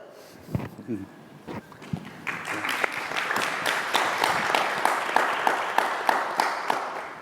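Conference audience breaks into applause after a talk on equity, starting after a few scattered claps and building into a steady, fairly distant wash of many hands that holds to the end.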